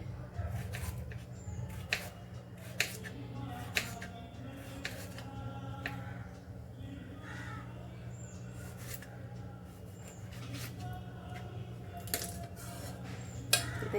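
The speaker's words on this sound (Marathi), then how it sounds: "असे लांबट टॅमॅटो कापून घेते मी" A knife slices elongated tomatoes on a board, giving a series of soft, irregular taps and clicks over a steady low background hum.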